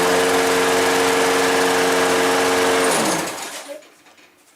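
A Toro Recycler lawn mower with a dirty carburetor runs with a loud, steady buzzing engine drone up close for about three seconds, then sputters and winds down into quiet.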